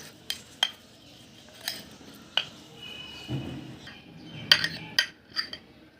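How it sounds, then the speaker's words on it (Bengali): Utensils clink and scrape against a plate while fried potatoes are served onto hot rice, a few sharp metallic taps scattered over a quiet kitchen background, with a brief soft scoop midway. "আমি গরম ভাতের সঙ্গে আলু ভাজিটা উঠিয়ে দিচ্ছি, আমার মেয়ে খাবে।"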